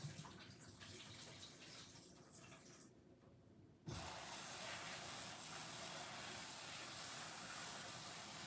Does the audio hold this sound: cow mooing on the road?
no